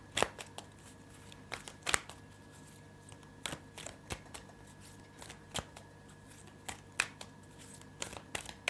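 Tarot cards are shuffled in soft, irregular riffles and taps, each burst brief and fairly close, scattered across a quiet room with no talking.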